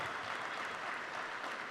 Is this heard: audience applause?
yes